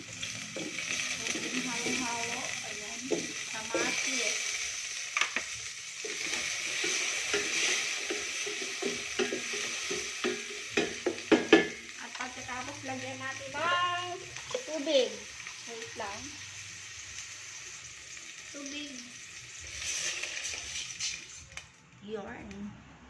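Garlic and onion sautéing in a pan after ginger, a steady hiss and sizzle with stirring clatter throughout, while someone talks over the cooking.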